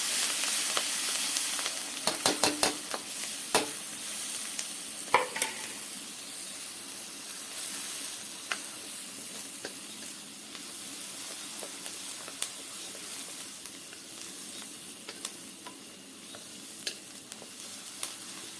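Chopped onion, turmeric, chili powder and cumin sizzle steadily in hot oil in a village kitchen, with a constant frying hiss punctuated by sharp spatters and pops, plus occasional stirring clatter.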